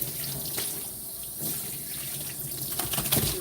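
Running water from a tap rinses shampoo off a Yorkie during a grooming bath, a close, continuous splashing rush with brief surges, no speech.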